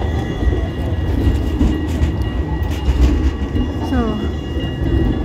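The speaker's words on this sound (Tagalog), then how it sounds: "Train is there." Train pulling into a Dutch station on the way to Den Haag Centraal, a loud, close rumble with faint wheel squeals near the end and brief voices talking over it.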